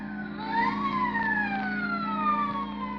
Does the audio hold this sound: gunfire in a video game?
no